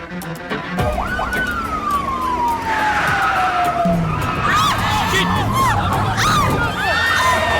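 A car skids hard and nearly overturns, with a long squealing tyre screech followed by further sharp squeals and rumbling, loud and close, while a siren wails and voices call out.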